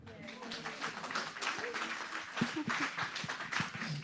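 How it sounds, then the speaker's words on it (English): Audience applause at a literary tribute event, a steady wash of clapping at moderate level, with murmured voices and talk threading through it. "Applause for my colleague Bram."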